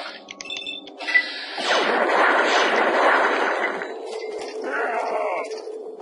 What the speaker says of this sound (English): I hear a lot of gunfire.